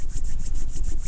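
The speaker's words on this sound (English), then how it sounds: "Rub your hands together," Hands rubbed briskly together during a healing meditation circle, a close, dry rhythmic swishing friction repeating several times in about a second, with no talk.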